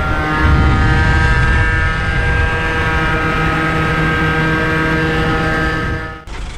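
Piaggio Zip scooter fitted with a 70cc Athena Racing air-cooled kit, revving hard as it accelerates, a loud continuous buzzing engine whine held steady and close until a brief dip near the end.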